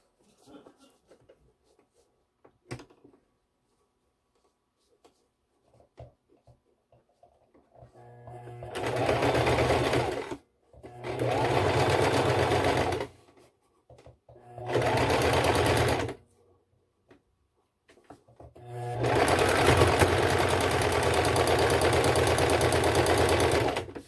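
A sewing machine stitching a homemade fabric face mask, running in four loud, close bursts of rapid whirring separated by pauses filled with quiet handling clicks.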